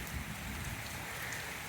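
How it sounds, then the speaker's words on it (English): Light rain drips off a roof into guttering as a faint, steady patter and hiss, unbroken and even throughout, with no voices. "So we've got a little bit of rain, starting to drip off the roof into the guttering."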